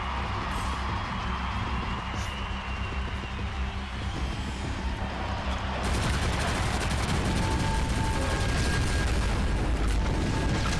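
Heretic ZX-1 gun in Shadowgun Legends arena gameplay, rapid loud gunfire forming a dense continuous barrage that intensifies halfway through, with booming game effects and no pauses.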